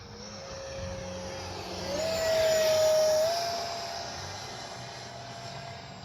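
An Arrows T-33 50mm electric ducted-fan RC jet flying overhead, a steady whooshing whine with a tonal fan note that swells louder as it passes at moderate distance, then fades back, no talking.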